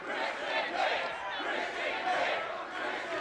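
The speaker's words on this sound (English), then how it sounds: "Crowd screaming Christian's name, trying to fire him up." A large wrestling crowd at a TNA event chants and screams a wrestler's name in a steady, roaring wave of many voices that rises and falls without pause.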